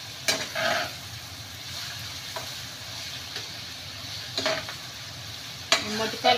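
Mottikayalu, green field beans seasoned with turmeric and salt, fry in oil with a steady soft sizzle and a few sharp stirring scrapes spaced out over several seconds, close with no voices.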